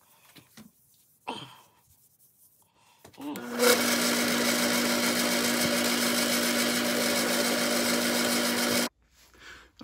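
A drill on its lowest speed setting of about 214 RPM, fitted with an inch-and-three-quarter fastener bit, starts up after some faint handling noises and whirs steadily and loudly for about five seconds before stopping.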